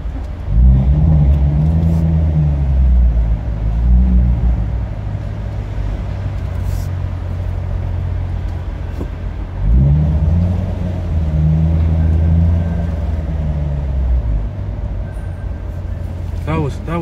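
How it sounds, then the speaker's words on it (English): A 2019 Corvette engine revs in two loud, deep surges as the gas is pressed, with a steady idle rumble between them and a voice in the background. "I was actually just stepping on the gas for just a little bit"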